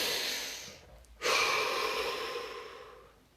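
One long, deep breath is taken close up. A drawn-out exhale trails off, then a full inhale rushes in and slowly fades, heard alone with no talking.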